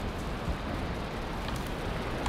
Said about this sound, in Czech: Ale už začne pršet.